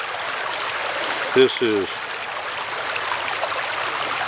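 Steady flowing stream water rushes and trickles outdoors in the background, continuous and moderately loud, with a brief voice cutting in partway through.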